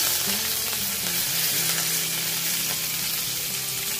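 Urad dal, asafoetida and curry leaves frying in hot oil, a loud, continuous close sizzle with faint stirring and no talking.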